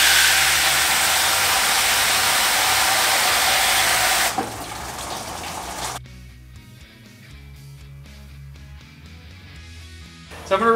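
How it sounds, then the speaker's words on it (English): Plain hose water pours into the cooling system of a 1988 Isuzu Trooper, a strong continuous rush for about four seconds that drops to a quieter flow before other tonal sounds take over. "So I'm gonna run some, just straight out of the hose water, fill this thing up"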